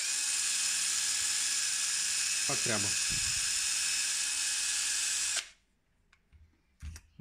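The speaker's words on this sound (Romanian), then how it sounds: "pun și cu pâsla pe bormașină." A steady electric drill fitted with a felt pad, polishing a scratched plastic watch screen with paste, whirs continuously with a high mechanical whine, a brief voice heard over it, then the motor cuts out abruptly leaving near silence.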